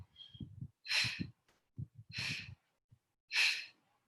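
A person exhales during a Pilates class, with several strong breathy exhales alternating with softer, shorter breaths, close and clear with no talking.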